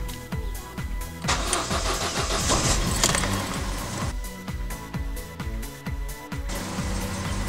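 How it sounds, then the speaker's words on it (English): A Vauxhall Corsa 1.2 petrol engine cranks and catches after a spark plug change, then settles into a steady, close idle with a few louder revs, carrying on alone without talk. "Everything started up now."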